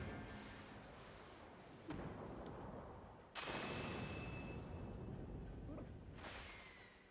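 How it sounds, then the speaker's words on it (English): Boss death explosions in the video game Legend of Mana land as three booming bursts, each with a sharp onset and a slowly fading rumble. They sound fairly quiet overall, over a constant low hiss. "some very intense animations and explosions when the bosses die"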